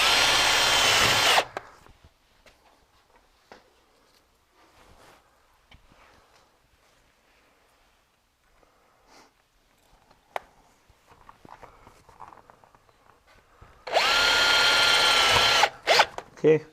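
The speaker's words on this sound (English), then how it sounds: "I'm going to put some more screws in to finish this out." A power drill drives screws into a door bottom seal in two loud whirring bursts, one at the start and one near the end, with quiet handling sounds in between.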